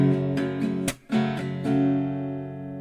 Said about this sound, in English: it pretty much just flows there with a clap in the middle of the strumming